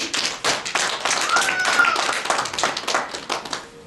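A church congregation claps together in a fast, steady rhythm to acclaim the Lord, many hands close and lively with no break, and a faint voice occasionally rises beneath the clapping.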